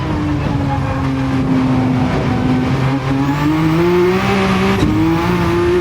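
A Lamborghini Countach QVX race car at full throttle, its engine note a loud, close, continuous roar that climbs steadily through a gear before a brief shift blip near the end.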